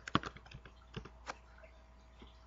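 A few sparse, quiet keystrokes on a computer keyboard, close and isolated, with faint clicks spread across a short quiet stretch.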